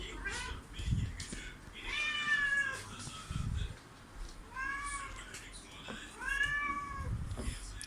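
A cat meows repeatedly in loud, drawn-out, agitated cries, several separate wails close by, with low thumps and some talking in the background.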